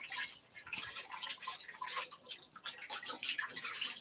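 Juicer parts rinsed under a running kitchen tap, a steady hiss of flowing, splashing water with small irregular drips and clatter, fairly quiet and continuous.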